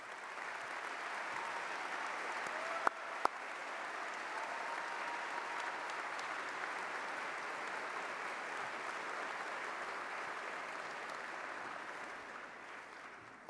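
Sustained, fairly distant applause from an audience at a mayor's State of the City address, honoring elected officials as they stand, steady and even throughout.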